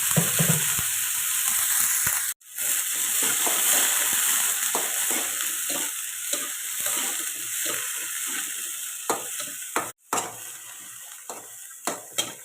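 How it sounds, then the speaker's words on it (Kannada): Food sizzles steadily in hot oil in a pan, a loud continuous hiss broken twice by brief cutoffs, with occasional stirring clatter toward the end. "ಆಮೇಲೆ ನಾನು ಸ್ವಲ್ಪ ಎಣ್ಣೆ ಹಾಕಿ ಹುರಿತೇನೆ ಇಲ್ಲಿ"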